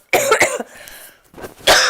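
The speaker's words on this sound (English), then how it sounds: "I just have to cough." A close, harsh cough in a couple of quick bursts, then a brief pause and another rough cough.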